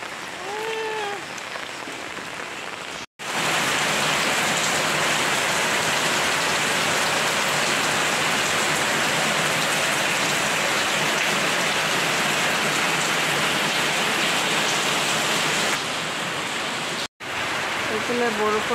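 Heavy rain pours steadily onto surfaces around a house, a dense loud hiss that runs unbroken for the whole stretch apart from two brief cuts, with a bird calling faintly at the start.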